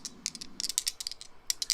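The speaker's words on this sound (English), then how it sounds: "you guys will have to rely that is the sound of my lucky D6s" Two small six-sided dice clatter and tumble across a hard surface in a few quick bursts of light clicking, close and fairly quiet.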